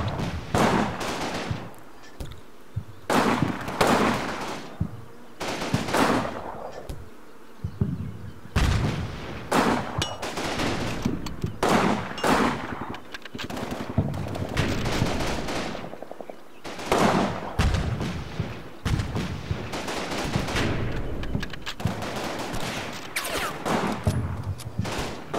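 Gunfire and mortar fire in a war video game, bursts of rapid machine-gun rattle and sharp shots repeating in clusters with brief pauses and occasional heavier booms, loud and close, no talk.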